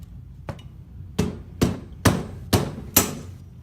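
Tapping the spacers out of a Uintah Precision UPR-10 rifle during a barrel change: a faint first knock, then five sharp, evenly spaced hammer taps about half a second apart, close and loud in a quiet room.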